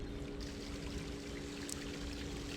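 Gray tank water from an RV drains through a sewer hose at a campsite, a steady continuous pouring rush with a low hum underneath, close and even throughout.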